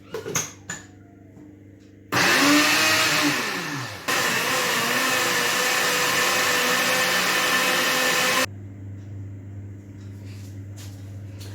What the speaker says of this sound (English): Okay, so I'm going to blend the cabbage and then sieve it.